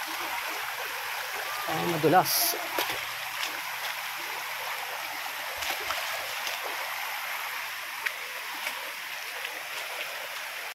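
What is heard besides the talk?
river water flowing during crossing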